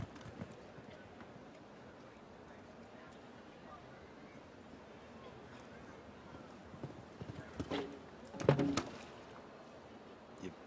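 Faint hoofbeats from a horse in a show jumping team competition at Aix-la-Chapelle, soft and distant under arena ambience, with a louder thud cluster near the end and a commentator talking over it.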